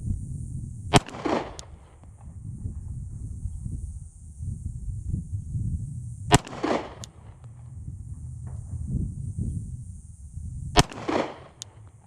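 Pistol shots fired on a range from 25 yards, three sharp loud cracks spaced several seconds apart over low outdoor rumble, with no talking.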